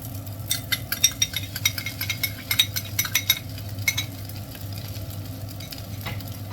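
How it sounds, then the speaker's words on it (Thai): Rice stir-fried with vegetables and ketchup in a pan, giving a soft steady sizzle with a run of quick scraping and stirring clatters, close and fairly quiet, with no talk. "แล้วก็ผัดให้เข้ากันนะคะเพื่อน"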